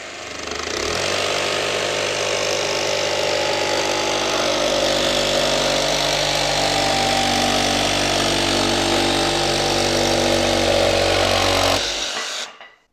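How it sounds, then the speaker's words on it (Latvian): A Milwaukee M12 Fuel cordless jigsaw cutting material, its motor buzzing loudly and steadily with a whining reciprocating rasp, shifting speed as the blade engages, running for about twelve seconds before stopping abruptly. "Tikko zāģa asmenis pieskārsies materiālam, viņš pārslēgsies uz citiem apgriezieniem."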